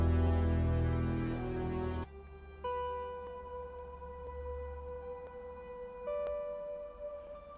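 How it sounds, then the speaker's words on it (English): Transmission sound effect from the Contemporary Drama Toolkit library, sustained high tonal hums and shifting pitches with faint crackly texture, layered over a fading musical cue. "I've found this transmission sound from the Contemporary Drama Toolkit"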